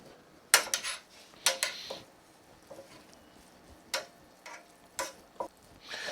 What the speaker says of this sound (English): you want to really stir this thoroughly and mix it well